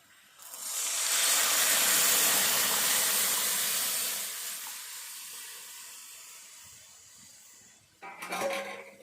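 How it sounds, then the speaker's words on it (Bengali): Hot spices hit dal for a chhonk while a khesari dal with fried new potatoes is cooked, giving a loud, bursting sizzle that slowly fades into steady hiss, with a brief clatter at the end. "এবার ডালটা ছোঁক দিয়ে দেওয়া হচ্ছে।"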